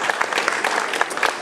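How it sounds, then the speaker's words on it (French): Audience applause at a sports awards night in Berre-l'Étang, a steady patter of many hands clapping at moderate distance, with a few sharper claps standing out. "vous pouvez applaudir Nicolas Marnat."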